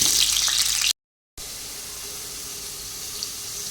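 Potatoes hiss and sizzle in hot oil in a home kitchen, a loud steady frying noise broken by a brief silent gap.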